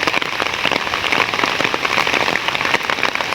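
Steady rain falls during a windy spell, a dense continuous patter of drops striking surfaces, fairly loud and even throughout with no voices.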